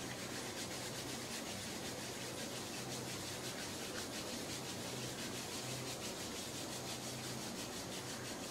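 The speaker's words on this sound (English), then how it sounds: "Rub your hands together." Hands rubbing briskly together during a yoga class, a continuous close dry swishing friction that stays even and steady throughout, no voices.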